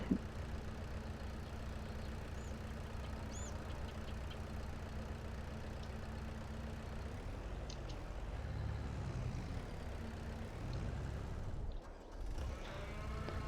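Tractor engine in Farming Simulator 22 running steadily in a field, a low continuous drone with a lowing cattle-like tone layered over it, loud and unbroken throughout.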